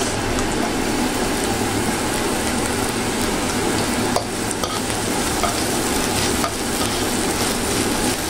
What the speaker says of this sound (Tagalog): gisa-gisa lang natin guys. Hanggang sa lumabas yung aroma ng ating luya at sibuyas